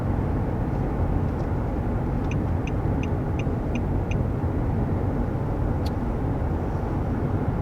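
Cabin road noise inside a 2021 Nissan Murano Platinum at 55 mph, a steady broadband rumble with faint ticking clicks and a single spoken word.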